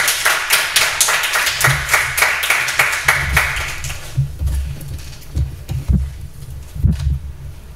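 Audience applause for a student speaker at a Lycée Saint Alphonse school event: steady rhythmic clapping fills the first four seconds, then tapers into scattered, fading claps with low thumps.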